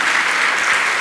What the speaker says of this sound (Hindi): तालियां अच्छे से बजाइए